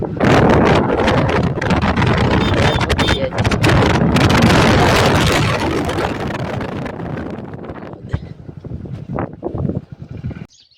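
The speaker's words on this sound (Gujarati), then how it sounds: "વાયરો આવે છે ને બહુ પવન, એટલે અવાજ નહીં તમને સંભળાતો." Strong wind buffets the microphone with loud roaring gusts that ease toward the end, leaving a few scattered thumps and rustles.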